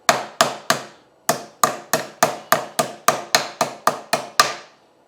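A steering stem bearing on a Honda XR250R motorcycle is tapped into place with a hammer: about fifteen sharp, ringing metallic taps in a steady rhythm, loud and close, with one short pause and no talking.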